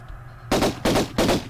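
Three sharp, loud gunshots from a video game, fired in quick succession and slightly uneven in rhythm, each with a short echoing tail, close and with no talk over them.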